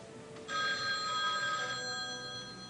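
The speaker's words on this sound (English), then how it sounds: "It's the phone." A telephone bell rings in a horse stable, a steady electronic trill that starts after a brief quiet and holds loud and close to the end.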